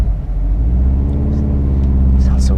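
A blobeye Subaru WRX with a straight-piped exhaust, its engine droning loud and close with a low, throaty rumble that stays steady and then swells slightly. Short bursts of talk sit over it.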